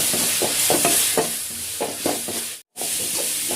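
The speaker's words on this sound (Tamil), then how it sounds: "மஞ்சத்தூளை போட்டு வதக்கிக்கலாம்." Turmeric sizzles and crackles in a hot frying pan while a spoon stirs and scrapes in short rhythmic strokes, with a brief silent gap near the end.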